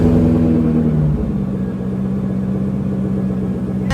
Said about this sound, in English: I'm about to turn my car on